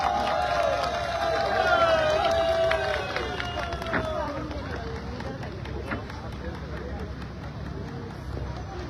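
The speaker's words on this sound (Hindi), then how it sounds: "जोरदार तालियों के साथ स्वागत कीजिए" An audience at an indigenous youth rally in Itanagar cheers and applauds in welcome for a youth organisation president, the noise loudest in the first few seconds and then settling into lighter crowd murmur, with a voice over it at the start.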